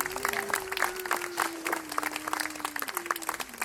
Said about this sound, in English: Can we give them a round of applause one more time?